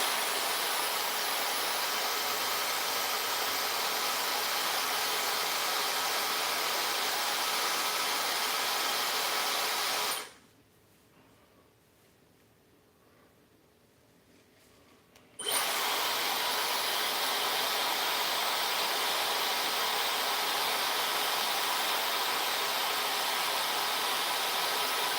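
Steady loud broadband whoosh of a Dyson hair dryer blowing while styling wavy hair, cutting out for about five seconds in the middle and then resuming just as strong.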